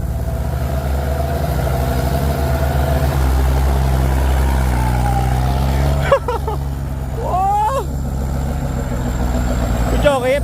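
Two Kubota tractors, an M8540 and a 7840, race with their diesel engines roaring in a steady, loud, low rumble close by, while excited voices shout over the engine noise.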